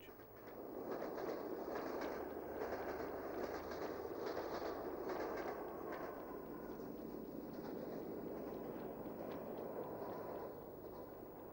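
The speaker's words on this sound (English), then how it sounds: "At Retford, accelerating from the 60 mph speed limit over South Crossing is D184 on the northbound Northumbrian to Newcastle" Diesel locomotive D184 pulling the northbound Northumbrian express through Retford as it accelerates from the 60 mph limit, a steady rumbling roar with rhythmic wheel clatter, heard from a moderate distance and sustained throughout.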